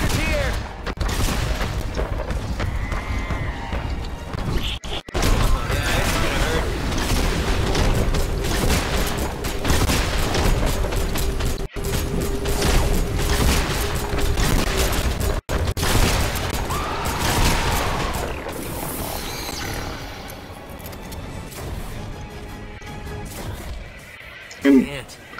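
Cannons firing in a video game, a dense, continuous run of booming blasts and mechanical clatter under loud, steady talk.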